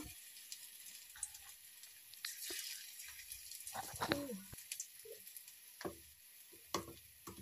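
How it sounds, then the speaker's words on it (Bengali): Faint sizzle of chicken pakoras deep frying in oil over a medium flame, interrupted by utensil clinks, scrapes and scattered clicks; quiet overall, no speech. "আমি সব কটা পকোড়াকে ব্রাউন কালার করে ভেজে নেব"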